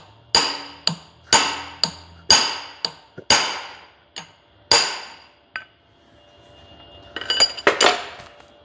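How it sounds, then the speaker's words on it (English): Sharp metallic hammer blows from an aluminum punch being driven against the gland on the cylinder of a Swisher 5-inch bore log splitter during a reseal, about eight loud ringing strikes in an uneven rhythm, ending with a quick cluster of clinks. "Got an aluminum punch here I'll take and just hit this head back."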